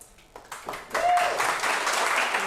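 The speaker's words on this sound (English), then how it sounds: "We all applaud you having the guts to tell your story" Audience applause after a personal story is told, starting with a few scattered claps that swell into steady group clapping within a second, with a voice briefly heard.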